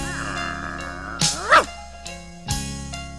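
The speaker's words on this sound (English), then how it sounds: "The family dog." A family dog in a 1987 movie trailer gives a few short barks and yips over music and other trailer sounds, fairly close and sharp.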